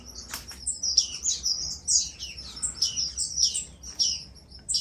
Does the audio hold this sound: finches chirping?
yes